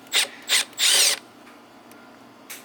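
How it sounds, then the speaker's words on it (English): An impact driver fitted with a number 2 JIS bit hammers at screws on a Honda ATC70 three-wheeler during clutch repair: three close, loud rattling bursts, the last one longest, then a faint short buzz after a pause. "this is a number 2 JIS bit with an impactor to pull these out"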